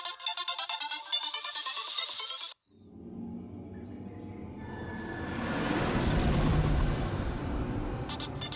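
A mobile phone rings with a repeating electronic ringtone for about two and a half seconds, then cuts off, followed by a rising whooshing rush of broadband noise.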